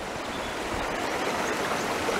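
Creek water running steadily over gravel and rocks at a worked gold-panning site, a close, continuous broadband rush and gurgle with no talk.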